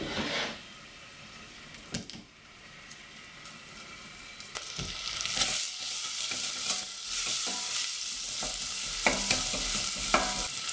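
Onions frying in a pan with paprika, salt and a clove of garlic, a steady close sizzle broken by stirring scrapes and clatters, the sizzle growing louder and busier after the first few seconds.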